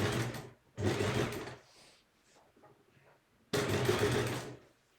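A sewing machine stitches piping around a corner, with two loud, steady bursts of rapid stitching separated by a quieter pause while the fabric is turned under the needle.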